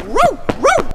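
A dog gives two quick yips or short barks, close and clear, with a brief sharp sound between them.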